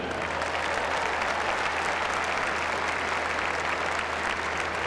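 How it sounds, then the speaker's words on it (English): Steady applause from an arena audience at a basketball team recognition ceremony in Chapel Hill, sustained and evenly dense throughout, with no voices rising above it. "big round of applause for Lee Deadman."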